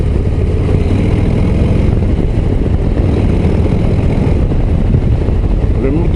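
Harley-Davidson Low Rider ST cruiser engine rumbling steadily on the road, a loud continuous low drone mixed with wind noise, with someone talking over it.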